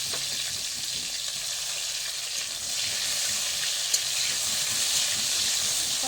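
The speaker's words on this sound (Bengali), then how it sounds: "টমেটোটাকে একটু ভেজে নেবো হালকা করে" Chopped tomatoes with salt fry in a pan, making a loud, continuous close sizzle with a constant hiss and a few faint stirring sounds.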